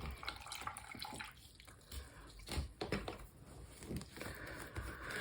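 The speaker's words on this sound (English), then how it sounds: "let me wash my brush" Paintbrush swished and rinsed in a water jar during a still-life painting session, a soft splashing, dripping wash with light patter, fairly faint and continuous, no voices.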